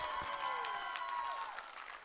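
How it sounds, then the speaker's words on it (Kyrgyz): An audience claps for the mothers at a stage performance, a steady wash of applause with scattered cheers, moderately distant and fading toward the end. "Апалар үчүн бир кол чаап коелучу."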